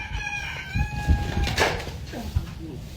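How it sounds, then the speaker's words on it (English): A chicken crowing and clucking at close range, with drawn-out strained crowing notes and shorter clucks mixed with background voices. "What is wrong with this chicken?"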